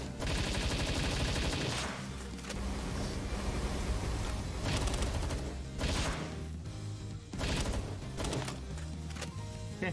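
Rapid gunfire crackles in a Palworld battle, dense bursts of automatic shots repeating over a loud busy game mix.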